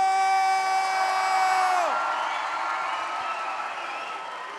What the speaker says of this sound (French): On les applaudit tous bien fort!